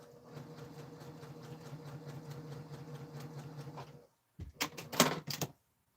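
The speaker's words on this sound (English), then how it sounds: "I always test my stitch before I get going." A sewing machine runs a test stitch for about four seconds, a close, steady mechanical buzz with a rapid needle rhythm. It stops abruptly, and a few louder handling clacks and rustles follow.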